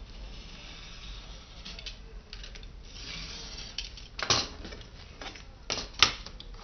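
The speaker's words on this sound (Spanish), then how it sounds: "Vamos a cortar." Scissors cut through folded sheets of recycled paper, a soft scraping rasp broken by two sharp snips near the end, close and fairly quiet.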